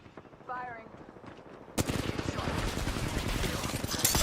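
Dense, rapid automatic gunfire from a shooter video game bursts in suddenly and keeps going loud and continuous until the end. A brief quieter stretch with faint voices comes before it.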